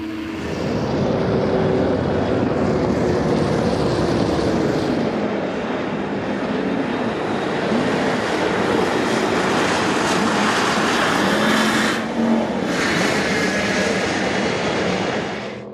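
New Zealand turbine-powered jet boats race in a world championship heat, a loud continuous roaring turbine whine with shifting pitch as several boats pass close, filling the whole stretch without talk.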